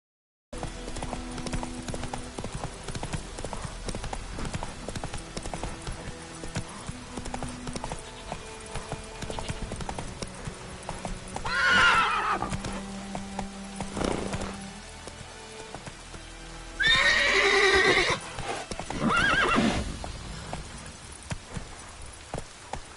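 Roach, a horse in The Witcher 3, runs along with steady clip-clop hoofbeats on the ground, mid-loud and continuous, and two brief whinnies or snorts break in partway through.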